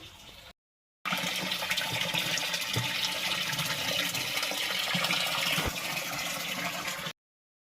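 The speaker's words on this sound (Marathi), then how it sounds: "पाणी काही थांबतच नव्हतं, पाणी चालत होतं" Water gushes steadily from a borewell pipe, a loud continuous rushing splash that runs unbroken after a short gap at the start, heard close with no talk over it.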